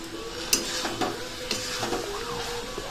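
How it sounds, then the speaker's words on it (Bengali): A spoon stirs basmati rice with vegetables in a pan for chana pulao, giving a series of scraping, clinking strokes over a low sizzle, close and moderately loud. "এবার আমি নেড়ে নেবো এটা ভালো করে"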